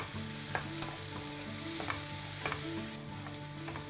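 Garlic prawns stir-fry in olive oil with a constant soft sizzle, while a utensil clinks and scrapes against the pan every second or so.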